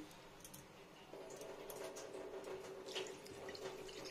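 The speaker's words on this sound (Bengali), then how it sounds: "জল দিয়ে নিচ্ছি পুরো, অনেকটা জল।" Water is poured from close by into a pot of bitter gourd curry with bori, a faint, steady pouring hiss that starts a moment in and keeps going.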